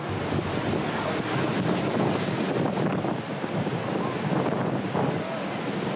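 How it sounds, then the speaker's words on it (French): Storm surf and strong gusting wind pound the Wimereux seawall during a winter gale on the Channel coast, a continuous loud roar of crashing waves and buffeting wind noise with no pauses throughout. "De fortes rafales et des vagues cassent la jetée."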